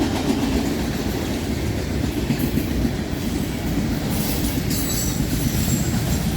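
A Union Pacific freight train with a DPU on the end rolls past close by, giving a continuous loud rumble of wheels on rail with faint squeals, and nobody speaks.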